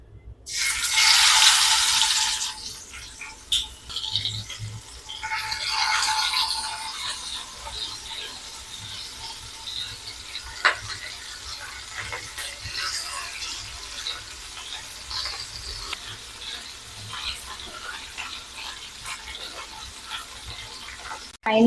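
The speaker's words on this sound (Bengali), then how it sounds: "এবার একটা একটা করে তেলে ছাড়বো তেলটা আমার গরম হয়ে গেছে" Paneer shashlik tikka pieces dropped one at a time into hot oil, each entry giving a loud bright burst of sizzling that settles into a steady, fainter frying hiss.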